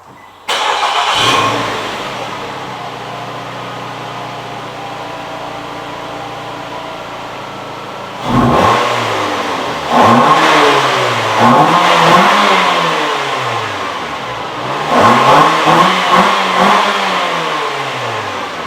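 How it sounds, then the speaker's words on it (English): A stock exhaust car revs inside a garage: the engine starts, then idles steadily before several loud, close throttle blips rise and fall in repeated bursts. "I show you guys the before when I rev it inside the garage"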